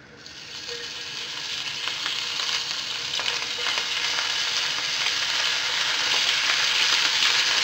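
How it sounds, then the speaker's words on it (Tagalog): Shredded adobo flakes frying in a pan over medium heat, a steady hissing sizzle that slowly builds in loudness, with faint scraping clicks as the meat is stirred. "So, imimix lang natin ito mabuti. Then, ipa-fry na natin."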